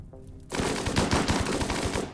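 Rapid gunfire volley from Hellcat units in the RimWorld video game, a dense burst of quick sharp shots starting abruptly and rattling on for about two seconds, loud and close.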